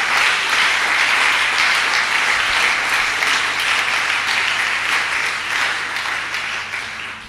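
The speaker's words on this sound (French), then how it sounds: "Est-ce qu'on peut acclamer pour l'homme de Dieu?" A church audience applauds and cheers for a preacher, giving sustained, dense clapping from a large crowd that fills the room and slowly tapers off toward the end.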